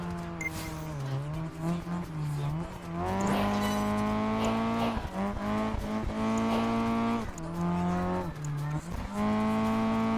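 Race car power sliding through a turn in Project Gotham Racing 4, a steady loud engine drone with shifting revs and tire squeal layered over continuous game music, with no talk.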